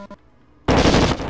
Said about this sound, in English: I'll use my plasma gun.